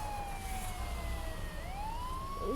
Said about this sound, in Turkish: Sireni kapat.